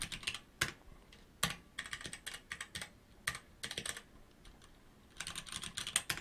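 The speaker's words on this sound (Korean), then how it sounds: "키보드 소리가 아주 청량하죠" Crisp, rapid keystrokes clatter on a computer keyboard in uneven bursts, with short pauses between runs of typing, close and clear with no voices.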